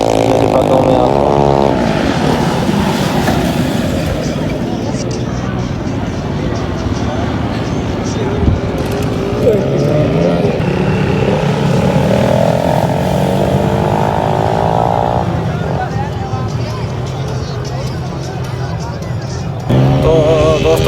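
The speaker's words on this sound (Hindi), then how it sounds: "ये कहते हैं वीगो स्पीड में आ रहा है।" A Toyota Vigo pickup speeds across desert sand, its engine droning loudly and rising and falling in pitch as it passes close, with someone talking over the noise.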